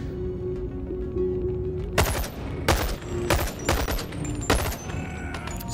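Gunfire in the VR video game Boneworks starts after a quiet, steady hum, with several loud, sharp shots spaced about half a second to a second apart, close and punchy, with no talking.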